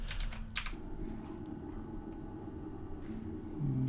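Computer keyboard keys pressed during WoW Classic play, a quick flurry of close, crisp taps near the start, then a low steady background hum with a few scattered clicks.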